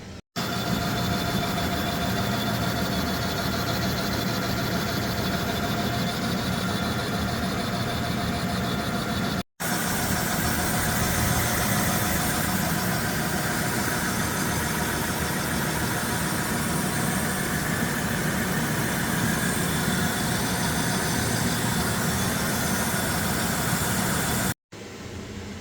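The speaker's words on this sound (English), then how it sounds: "since I have the large lathe here, I'm going to turn this thing down" A large lathe turns down a Ford 8.8 rear axle tube, a steady, loud mechanical hum and grinding drone with a continuous cutting texture, briefly interrupted twice.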